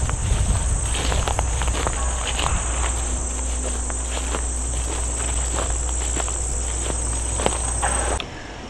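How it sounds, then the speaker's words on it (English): Grasshoppers swarm along a power line corridor beside a pasture, a steady high insect whine running continuously under soft rustling and crunching footsteps outdoors, then dropping away at the end. "All these things you see flying are grasshoppers. This whole power line is full of them."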